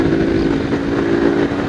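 Steady motorcycle engine idling close by, a continuous low rumble with a strong hum that holds throughout without revving, given as a surprise birthday gift.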